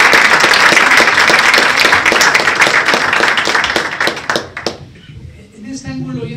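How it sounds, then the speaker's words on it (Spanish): An audience at an International Day of Sport for Development event gives dense, sustained applause for several seconds, then it thins out and a voice begins talking. "eso requiere un doble aplauso"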